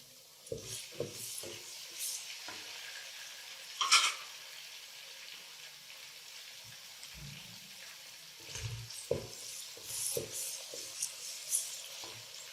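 A medium-sized tomato goes into garlic-ginger paste frying in a pot for beef yakhni pulao, giving a soft sizzle with scattered wet stirring and squishing knocks, one brighter hiss burst near the middle, all fairly quiet with no talk.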